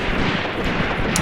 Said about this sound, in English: That is just a Mosin that he is taking on our entire damn regiment with it